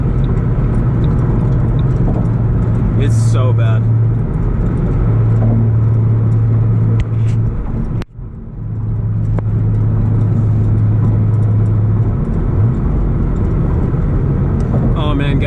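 A car driven through the gears from third to fourth, with a bad rattle over a steady engine drone. It sounds loud and close, with people talking over it.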